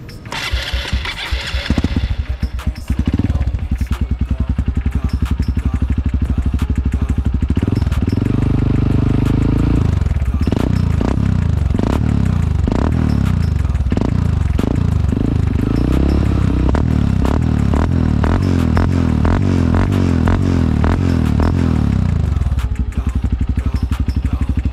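A Honda CRF150L motorcycle with a Norifumi Rocket 4 aftermarket exhaust starts up close by, then idles with a throaty, popping note and is revved repeatedly in rising and falling bursts, loud and alone.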